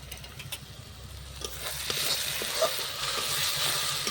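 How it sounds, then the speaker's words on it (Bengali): Masala of onion, ginger and garlic fries in a pan, a soft, close sizzle that grows fuller and steadier partway through, with light stirring scrapes over a low background rumble. "মশলাটা বেশ সুন্দর করে ভাজি আগে, যেহেতু পেঁয়াজ আদা রসুন সব কিছু একসাথে আছে"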